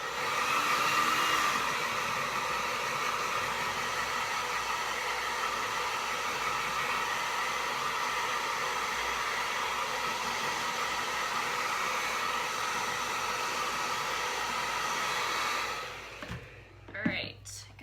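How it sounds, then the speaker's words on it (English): A hair dryer blows steadily on wet paint on a small snowman figure, a close, continuous airy hiss lasting most of the time before it cuts off, followed by brief handling noises. "I'm going to give this a quick blow dry so we can do a second coat."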